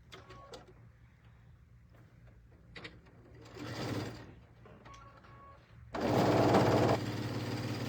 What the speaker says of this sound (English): And then we sew it all together.